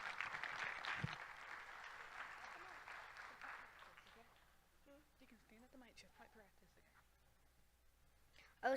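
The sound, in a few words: audience applause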